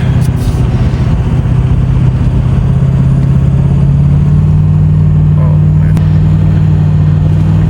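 A vehicle's engine drones loud and close as it drives off the road toward a watering hole, a steady low rumble throughout with muffled voices in the cab.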